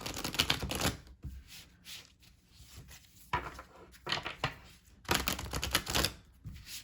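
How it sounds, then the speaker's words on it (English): Someone shuffles a tarot deck by hand, giving quiet bursts of rapid, crisp card clicks and flutters separated by short pauses, with no speech. "I'm going to shuffle the deck a few more times"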